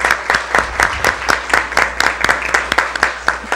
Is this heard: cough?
no